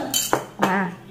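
A spoon stirs sugar and salt in a kitchen bowl, giving a few quick close metallic clinks and scrapes against the dish, with a brief voice-like sound mixed in.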